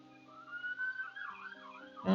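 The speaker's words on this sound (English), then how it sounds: "we get a lot of sirens going by here" An ambulance siren passing outside an apartment, a faint wavering wail rising and falling in the distance, heard alone before a brief louder knock at the end.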